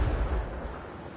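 The Confringo blasting spell in Hogwarts Legacy sets off a deep, rumbling explosion that booms at once and then fades into a low roar over about a second.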